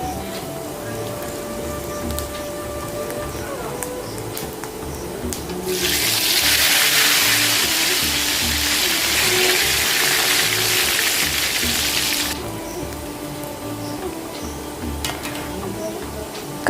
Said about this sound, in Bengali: আমার তেল পুরো গরম হয়ে গেছে কড়াইতে, তো আমি আলু ভাজাগুলো দিয়ে দিচ্ছি।